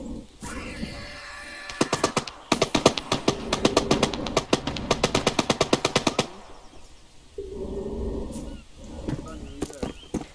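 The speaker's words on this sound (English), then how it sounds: "Let's go towards the sound of gunfire." Machine gun fire in a video game: rapid, loud bursts of evenly spaced shots rattle for several seconds, then a pause and a few scattered later shots over a background rumble.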